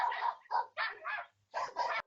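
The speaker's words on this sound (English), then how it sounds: "this is the BH71 with barking dogs in the background" Several dogs barking in the background, picked up through a Yealink BH71 Bluetooth headset microphone: six sharp barks in quick bursts with short pauses between them, fairly close and loud, no voices.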